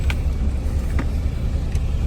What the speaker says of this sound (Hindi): अब यहाँ से नीचे उतरेगी गाड़ी